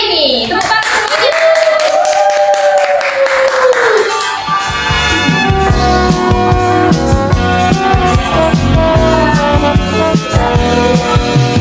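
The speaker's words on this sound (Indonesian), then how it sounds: "Tepuk tangan semuanya." Studio audience at a broadcast talk show claps and applauds to welcome a guest, a dense steady wash of hand claps lasting the whole stretch, with a brief sung or spoken tone at the start.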